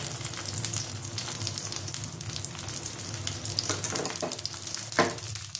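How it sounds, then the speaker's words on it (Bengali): Prawn toast fries in a little oil over low heat, giving a steady, close crackling sizzle with a few sharper pops toward the end. "দুটো করে হালকা করে কম আঁচে ভাজতে হবে একদম।"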